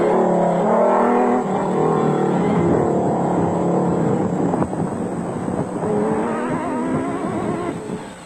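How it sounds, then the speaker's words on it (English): A race-leading Nissan Hardbody off-road race car engine roars loudly and continuously, revving and shifting pitch as it drives hard, up close with no talk. "there was no holding back Hannes Grobler and Richard Leek in the race-leading Nissan"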